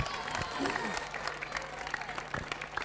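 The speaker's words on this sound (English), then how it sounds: "Crowd having a great time, getting a little vocal, getting vocal on every shot, every point rather." A squash crowd at an international final applauds a point with a fairly faint, steady patter of clapping, voices mixed in.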